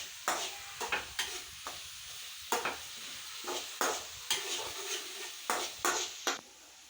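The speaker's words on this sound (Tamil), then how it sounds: "வெங்காயத்தை நல்லா வதக்கணும். நிறம் மாறுற வரையும் வதக்கணும் வெங்காயத்தை." Onions being sautéed in a pan for tomato thokku, with a gentle sizzle beneath regular sharp scrapes and knocks of a spoon stirring against the pan, about a dozen strokes in an even rhythm, close by.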